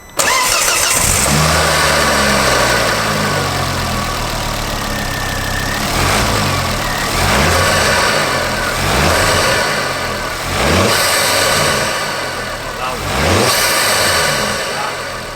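A turbocharged car with its turbo-to-crossover baffle deleted starts up and revs hard, the engine note climbing and falling in repeated surges, loud and close, with a brief whistle of the turbo spooling.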